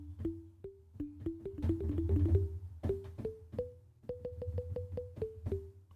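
Sampled water bottle tone played unprocessed on keys as short plucky pitched notes in a quick melodic run, faint and close, with key clacks and low thumps underneath.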